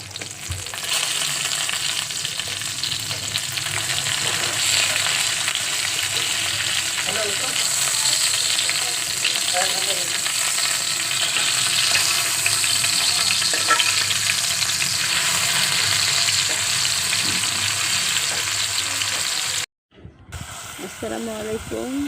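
Hilsa fish frying in a pan with chillies, a dense continuous sizzle with light stirring scrapes, briefly cut off near the end before resuming.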